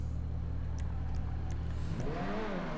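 A Grotti Itali GTO Stinger TT with a new exhaust idles with a steady, low rumble in GTA Online, then revs sharply upward near the end.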